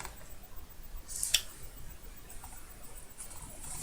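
Scissors snip through a paper cutout picture in one short, crisp burst of cuts, close and fairly quiet against a faint background hiss.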